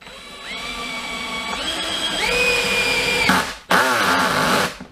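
Power drill driving a Goldscrew Plus single-thread woodscrew, the motor whine rising in steps as it speeds up, a brief pause, then a second burst of strained driving close by that cuts off at the end.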